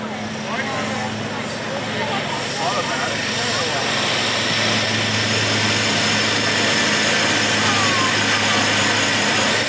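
A heavy Mack semi truck diesel engine roars loudly and steadily throughout at a stock semi pulling event, its pitch rising partway through, with people talking faintly underneath.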